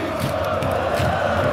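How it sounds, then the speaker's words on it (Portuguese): Football supporters at a São Paulo versus Goiás match cheer and chant in a loud, continuous roar that fills the stadium without a break. "Olha a torcida."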